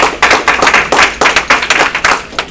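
Audience at a conference session clapping in a loud, close, fairly rhythmic run of claps, about four per second, welcoming a speaker to the stage.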